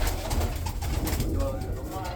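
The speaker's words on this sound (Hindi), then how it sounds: "भाइयों, इनमें एक कबूतर जो है वो पाकिस्तानी है।" Pigeons kept by a breeder coo softly and repeatedly at close range, with people talking nearby.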